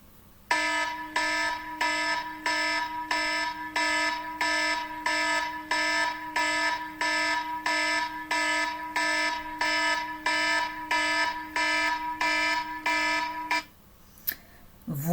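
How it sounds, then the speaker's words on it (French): An alarm signal rings in a steady series of about twenty identical tonal pulses, loud and close, before cutting off near the end. "c'est juste le signal d'alarme que j'ai encore reçu à nouveau ce matin"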